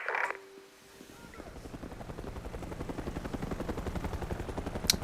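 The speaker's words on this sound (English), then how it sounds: "It would appear a second helicopter has shown up." A Chinese military helicopter, likely an Anaconda, in the video game Mercenaries 2: World in Flames, its rotor chop rising into a steady, pulsing thrum that grows louder across the clip, with a brief sharp burst near the end.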